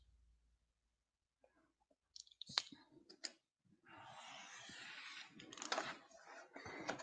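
Paper is cut on a cutting base for a birthday-cake scrapbook page, with a few soft clicks and taps followed by a quiet, rasping slide of the blade that lasts several seconds, close and faint.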